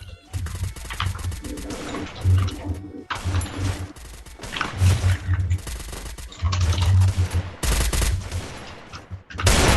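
SCAR rifle fire in an online shooter game, repeated loud bursts of rapid automatic shots in close succession, with short pauses between volleys.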